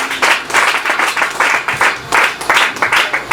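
A congregation at a prayer service applauding the Spirit of God, with loud rhythmic clapping in steady pulses filling the room.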